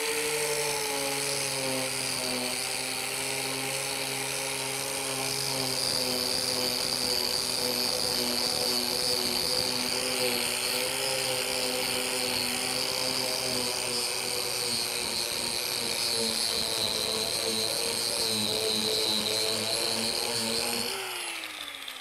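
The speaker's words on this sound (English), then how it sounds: "we'll show you in the next little square here what this the stripping disc can do" A power tool fitted with a stripping disc grinds paint off a car panel toward bare metal, a loud steady whine with strong harmonics running continuously and close, then cutting off abruptly near the end.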